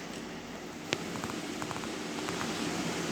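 Rain falling in the Minecraft video game, a steady soft hiss of pattering drops with a few brief clicks, faint and even throughout.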